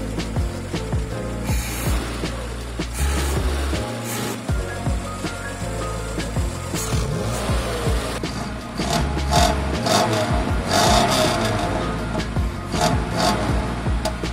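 A 1984 Citroën GSA X1 engine idling close by after its leaking exhaust was brazed shut, a steady rumble with some scraping and handling noises over it, no one speaking.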